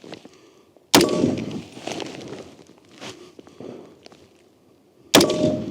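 Two sharp gunshots, a machine-gun round with a steel core, crack loudly against an American armor plate several seconds apart, each followed by a ringing decay and faint handling noise between.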